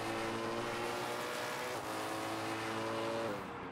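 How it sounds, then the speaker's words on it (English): A simulated race car in RaceRoom at Silverstone roars steadily up close, its engine note holding high with a brief dip and gear change midway, then easing off at the end. "he's sick of the sound of Zico Pon's car right ahead of him"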